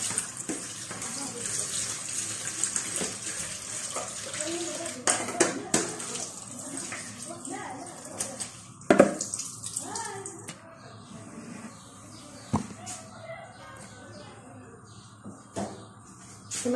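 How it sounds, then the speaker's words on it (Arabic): Soaked potato slices for homemade chips are drained of their water in a kitchen, with running, splashing water and a few clinks of dishes and pans, and a voice faintly underneath. "كما تروا تويكا انا قاعده نقطع فيها من الماء، نقطرها من الماء"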